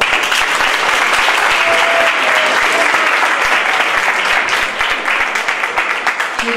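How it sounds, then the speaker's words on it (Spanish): A crowd applauds steadily and loudly at a school radio workshop, sustained clapping from many hands filling the whole stretch without a break. "así que un aplauso"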